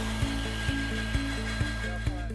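A 3/16 drill bit bores through a broken exhaust manifold bolt on a Dodge 5.7L Hemi, a steady whining grind with a regular low thump about twice a second, held at an even, moderate level.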